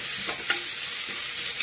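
Onions frying in a pan for chicken curry, stirred with a spoon: a steady close sizzle with a few brief scraping strokes against the pan, no voices.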